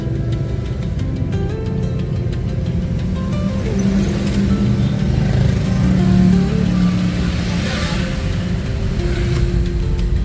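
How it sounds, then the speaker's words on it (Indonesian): Night traffic jam of cars and motorcycles on a street at Cadas Pangeran in Sumedang, engines idling and revving up close in a steady loud rumble, with occasional horn-like tones. "Wah cukup macet guys, lihat guys."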